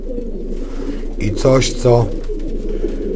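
Young domestic pigeons cooing in a loft, two soft throaty coos close by against low background hum, with someone speaking briefly over them.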